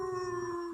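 A dog howls in a single sustained, steady tone with clear harmonics, close and fairly soft, lasting under a second with no talking over it.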